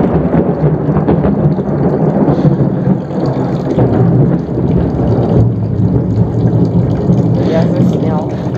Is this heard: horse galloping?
no